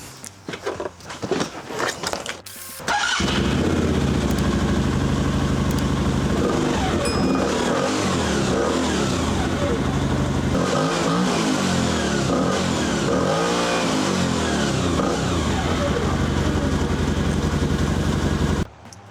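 A loud Benda ATV engine revs steadily after a brief quieter start, rising and falling in pitch as the throttle opens, close and continuous without talk.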